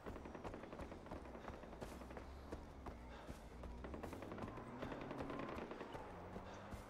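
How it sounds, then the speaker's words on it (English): Rapid gunfire from a Far Cry 4 game battle, a dense continuous clatter of overlapping shots and bursts at moderate volume throughout, with a low game rumble underneath. "There's lots of gunshots."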